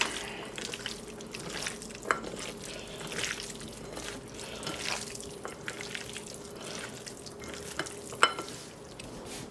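Ribs being stirred and mixed by hand with chopped, soaked dried mandarin peel for a steamed rib dish, giving soft wet squelching and clicking with a few sharper knocks, close and fairly quiet, with no talk.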